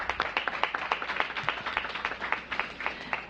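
A small audience at a city government press event for a free youth transit program claps steadily, with distinct individual hand claps in an even, moderately close patter and no talking over it.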